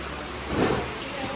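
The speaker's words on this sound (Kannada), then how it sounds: "ಬಾರಿ ಮಳೆ ಮಳೆ ಮಳೆ." Heavy monsoon rain falls in Sringeri during flooding, a dense and continuous close-up hiss that swells briefly in the middle.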